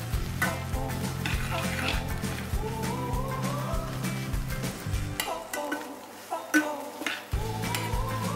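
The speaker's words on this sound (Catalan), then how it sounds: "Primer agafarem una miqueta d'oli," Garlic frying in a little oil in a pan, with steady sizzling and the clink and scrape of stirring throughout, close and fairly loud; background music plays along.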